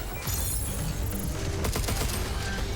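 Gunfire in the Pragmata video game, a dense fusillade of rapid shots with explosive booms running throughout, loud and close, with no talk over it.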